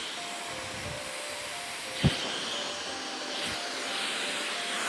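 A hair dryer blows a steady, even whoosh throughout a 90's-style blowout, broken by one brief sharp knock partway through.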